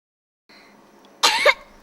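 A child's single short burst of coughing, close and fairly loud, after a brief stretch of quiet background noise.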